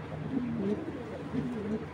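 A pair of black checker racer pigeons coos softly in two repeated low, wavering phrases, close and alone with faint background hiss.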